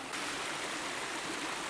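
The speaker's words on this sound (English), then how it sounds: "just the waterfall running up the middle" Waterfall running down the middle of a stream in Borrowdale in the Lake District, with water rushing steadily over rocks in a loud, continuous roar and no voices.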